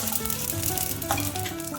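Mustard seeds, cumin and garlic sizzle in hot coconut oil for Kerala-style puttu and kadala curry, a loud, close, steady crackling hiss with a few sharp pops and no voices.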